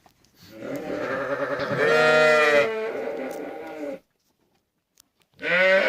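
Kangal Akkaraman sheep bleat loudly and close, one long wavering call followed by another after a brief silence, with twin lambs meeting their mothers.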